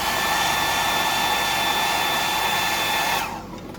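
A hair dryer blowing on whiting fish bait, a loud steady whooshing whine with a faint tonal hum, running close and alone before winding down at the end.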